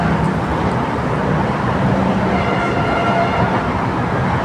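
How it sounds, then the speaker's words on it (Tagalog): An MRT train passes at night in a steady, continuous rumble of rail and road traffic noise, heard from some distance for the whole stretch with no voices. "Ayan na yung MRT, dumadaan."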